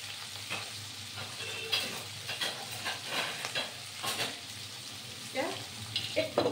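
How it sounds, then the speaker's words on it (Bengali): Pui mituli chorchori cooks in a covered pan, a quiet sizzle with intermittent scrapes and clatter from a utensil and lid, fairly faint and close. "একটু ভাজা ভাজা হবে।"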